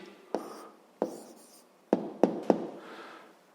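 A pen writes out the answer to a sixth-grade maths problem by hand, making several short, close scratchy strokes and taps separated by brief pauses, with no voices.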